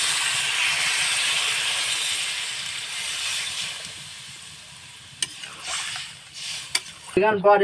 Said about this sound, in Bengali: এবার জলটা আমি ঢেলে দিচ্ছি।